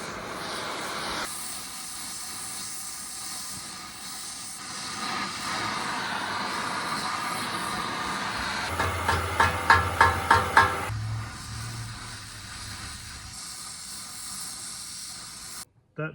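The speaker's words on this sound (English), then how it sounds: "I'm gonna melt some brass in there." A torch roars with a steady, close broadband hiss while brass is brazed into the radiator of a 1926 John Deere Model D tractor; a short run of metallic taps sounds midway before the hiss continues alone.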